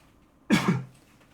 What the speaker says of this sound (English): Sorry for coughing a little bit.